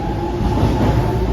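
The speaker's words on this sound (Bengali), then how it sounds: "ওই তো আমরা ড্রাইভার ছাড়া ট্রেন" A driverless Docklands Light Railway train rolling past close by, a continuous loud rumble with a faint steady whine.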